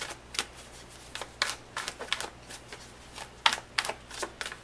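Tarot cards being drawn and shuffled for a reading, a quick run of crisp papery flicks and snaps at close range, irregular and clustered, with no talking.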